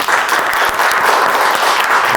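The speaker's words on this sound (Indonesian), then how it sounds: "Kasih tepuk tangan dulu dong" Audience applause fills a gathering at a food business sharing event, a steady dense clapping from a crowd that runs loud and unbroken throughout without talk.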